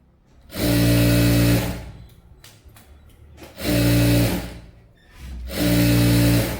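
A sewing machine stitches saree fabric in three loud, even bursts of rapid mechanical whirring, each lasting about a second or more, separated by short quiet pauses with light handling noises.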